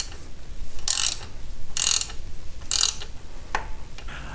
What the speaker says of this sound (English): Install the bolt into the lever. Using a 10mm, lightly tighten.